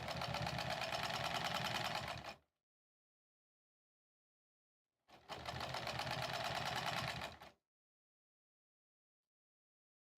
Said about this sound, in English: Let's just do a little back tack.